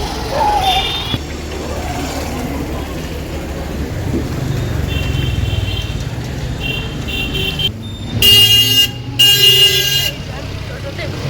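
Busy street traffic at an e-rickshaw (toto) stand, with a steady roar of passing vehicles and two loud, close horn blasts near the end, plus voices in the background.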